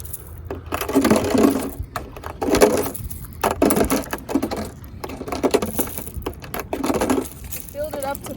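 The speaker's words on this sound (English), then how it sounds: "First step is to fill it up with rocks" Rocks are dropped one after another into a plastic milk jug, giving bursts of clattering and rattling at an irregular rhythm, close up, with brief pauses between handfuls.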